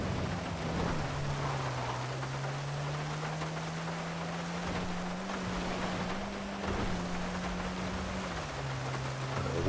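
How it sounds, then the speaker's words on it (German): Loud, steady rain in GTA 5 pours without a break, with a low engine drone running underneath, as from a vehicle in the game. "Mensch, der Regen ist so laut,"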